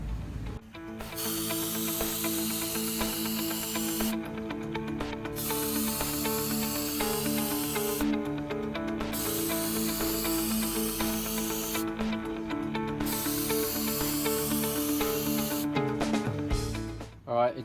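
Action Clear anti-corrosion coating is sprayed onto an HVAC circuit board in four long, steady, close hissing bursts, separated by short silent gaps.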